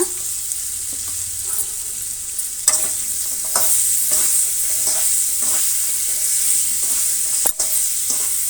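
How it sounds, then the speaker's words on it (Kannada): Cut water apple pieces stir-fry in a pan on low heat, giving a constant close sizzle broken by repeated scraping stirs and a sharp clatter near the end. "ಒಂದೆರಡು ನಿಮಿಷ ಹಾಗೆ ನಾವು ಈ ರೀತಿ ಫ್ರೈ ಮಾಡ್ಕೋಬೇಕು"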